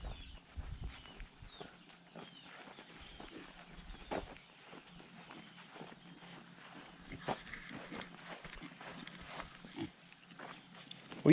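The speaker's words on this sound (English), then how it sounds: "Pigs are already waiting on me." Pigs on a homestead farm waiting to be fed, with faint, scattered grunts and shuffling movement against a quiet outdoor background; no one talks.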